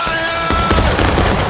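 Volley of muskets fired on command in the War of Rights Civil War game at Bloody Lane, a loud ragged burst of many near-simultaneous shots that rolls on for over a second with no talk.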